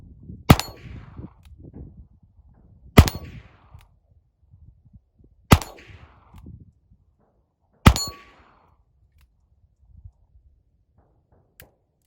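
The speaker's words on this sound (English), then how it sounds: "let's start shooting. I got this yellow plate right here. Let's see if I can hit it." A Ruger Single Six .22 LR revolver fires four sharp shots at a steel plate, evenly spaced about two and a half seconds apart, each with a short metallic ring, then a faint click near the end.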